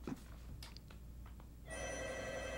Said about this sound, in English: That's my telephone. The answering machine will come up in a second.